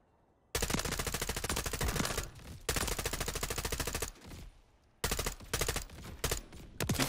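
Rapid automatic gunfire from the M4 rifle in Warzone on Rebirth Island comes in three long sustained bursts. Each burst is loud and close, with short gaps between them, and no voices are heard.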